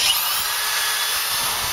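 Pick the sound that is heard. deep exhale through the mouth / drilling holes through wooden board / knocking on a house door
drilling holes through wooden board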